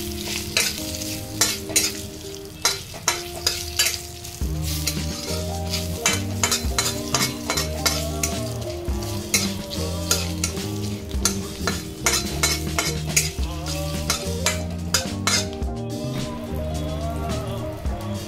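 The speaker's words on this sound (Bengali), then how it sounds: "তেলটা যাতে না ছেটে তার জন্য একটুখানি হলুদ গুঁড়ো একটু নাড়িয়ে নেই" Turmeric powder is stirred into hot oil with a green chilli in a pan, giving a steady loud sizzle with repeated sharp scraping and clinking strokes of the spoon, no voices.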